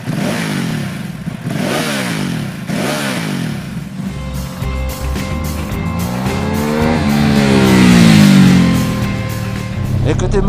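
Someone speaks briefly, then the 937 cc Testastretta twin-cylinder engine of a 2017 Ducati SuperSport 939 motorcycle revs up and down nearby, its pitch climbing and falling loudly.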